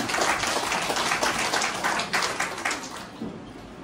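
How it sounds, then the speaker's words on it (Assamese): Crowd applause at a company thanksgiving event honouring a member selected as active member, a steady dense patter of many hands clapping throughout, fairly loud and continuous, tapering slightly at the end. "ডাঙৰকৈ এটা হাত চাপৰি হ'ব লাগে"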